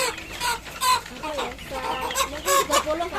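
Chickens cluck in uneven bursts, several birds close by, with farmyard noise behind them.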